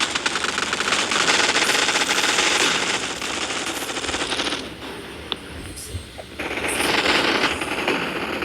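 Gunfire in a gun fight arena video game: sustained, loud automatic bursts with dense rapid shots, a brief lull and a few single cracks midway, then heavy firing resumes.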